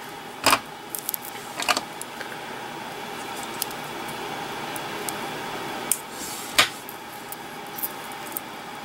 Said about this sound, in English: I'm gonna go ahead and cut this wire.